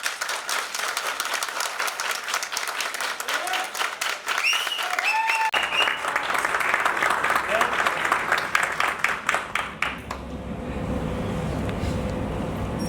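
An audience at a corporate event welcomes a speaker with loud, dense applause that swells and holds for several seconds before thinning out.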